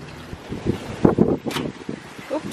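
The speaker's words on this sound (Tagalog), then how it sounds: "Lakas ng hangin!" Strong gusts of wind buffet an outdoor microphone, with loud rumbling bursts rising and falling over a couple of seconds.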